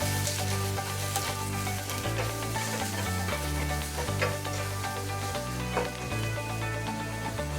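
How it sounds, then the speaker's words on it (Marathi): Salted onion frying in a pan for tomato rice gives a steady, moderate sizzle with occasional crackles, set against background music throughout. "त्यात थोडंसं मीठ टाकून घ्यायचं कांदा छान भाजण्यासाठी"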